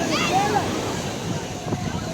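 Sea waves break and wash onto a public beach in Alexandria as a steady surf rush under wind, while someone talks over it throughout.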